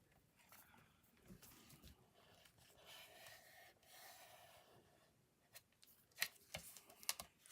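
Cardstock for an angled tri-fold card being trimmed, a faint rubbing and scraping of paper building into several quiet, crisp cutting snips toward the end.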